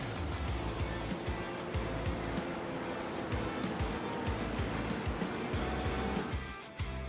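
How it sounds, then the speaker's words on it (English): GT3 race cars rolling through a formation lap at the Hockenheimring in iRacing, a steady engine drone with rhythmic surges as cars pass, fairly subdued throughout. "So the iRacing Porsche will take them around, will complete this formation lap"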